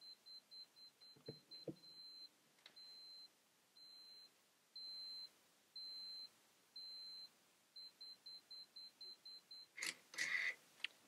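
Yashica 200AF camera self-timer giving a run of high, evenly pitched electronic beeps, first quick, then longer spaced tones, then speeding into rapid bursts before a brief mechanical shutter-like clatter at the end.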